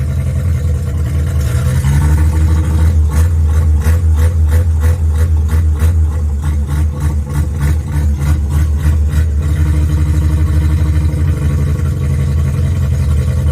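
Mazda RX-7 12A rotary engine running loud and close, settling into a low uneven idle, then revving in a rapid pulsing rise before dropping back to a rough idle.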